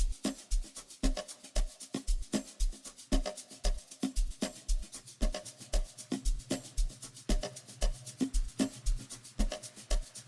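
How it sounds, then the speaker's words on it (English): An Amapiano percussive drum loop plays steadily, with deep kick thumps and crisp shakers and clicks in a quick, swinging rhythm, fairly quiet and heard alone. "I started mine with this particular loop,"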